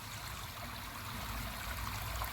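A garden pond waterfall trickles over rockwork, fed by hidden pipes, giving a steady, soft, continuous splashing wash with no voices.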